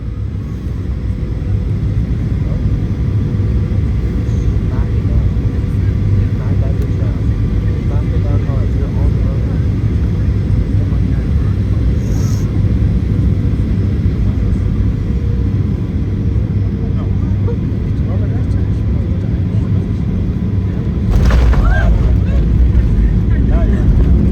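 A Sunwing Airlines Boeing 737-800 lands at Holguin airport, heard from the cabin as a loud steady engine and airframe roar with a heavier rumble near the end.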